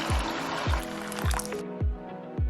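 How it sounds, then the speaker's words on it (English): Hot water is poured into a bowl with a stock cube in a home kitchen, a splashy liquid flow with recurring soft low thumps that stops partway through, then a few more thuds. "I'm just going to add some hot water with a stock cube"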